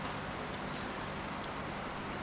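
Steady rain falls in an even, dense hiss, with no talking heard, during a power outage at an outdoor meal of papaya salad and crispy pork.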